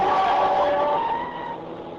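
A car speeds through a city intersection at 13th and Pine as a radio drama effect, tires skidding in a long squeal while the engine roars close by and then fades away, with no talk over it.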